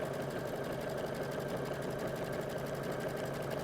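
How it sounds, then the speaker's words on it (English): A sewing machine stitches through a quilt, running with a steady, continuous rapid needle rhythm and a motor hum. The sound is close and even throughout, with no talking. "We stitch a few stitches past"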